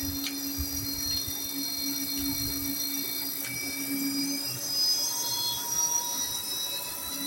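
Electric hub motor on a TVS Jupiter scooter converted to electric runs at its second speed setting, giving a steady whine with constant high tones over a faint low hum, continuous and close, with no talk.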